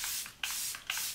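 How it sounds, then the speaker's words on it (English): Charlotte Tilbury Airbrush Flawless Setting Spray is misted onto a face in several quick, close, breathy hissing pumps, each a short burst of spray with brief pauses between. "to finish off the face, I'm adding some setting spray"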